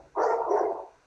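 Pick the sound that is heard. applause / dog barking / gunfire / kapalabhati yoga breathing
dog barking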